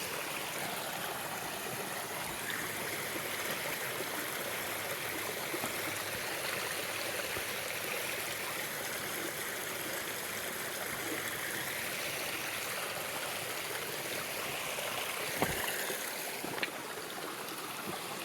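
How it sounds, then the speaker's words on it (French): A small woodland stream flows in a steady, soft wash of trickling water, even and unbroken throughout, with a faint knock or two near the end. "Je vais quand même aller mettre les pieds dans le ruisseau."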